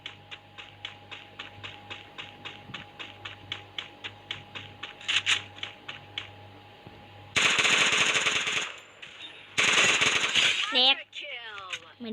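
Video game gunfire rattles in a rapid, evenly spaced string of shots, followed by two dense, loud bursts of automatic fire near the end, close and dominant.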